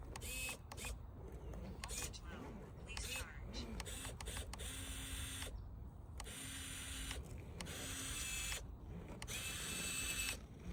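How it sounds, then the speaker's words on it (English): A small Injora 360 RC winch whirs in short bursts and pulses as it reels in a rock crawler up a hill, quiet and close, amid scraping and clicking, with someone talking. "We'll tighten up our winch, start trying to make our way."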